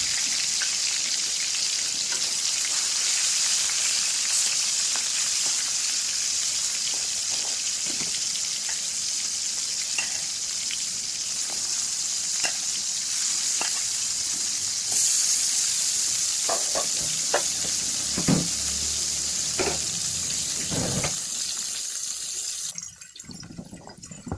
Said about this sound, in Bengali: গরম তেলে মাছগুলো কিন্তু সুন্দর করে ভেজে নিচ্ছি